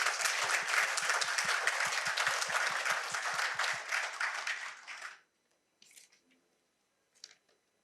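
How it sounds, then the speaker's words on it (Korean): An audience applauds with dense clapping for about five seconds, then it fades out into near silence with a couple of faint stray sounds. "박수 한번 쳐주십시오"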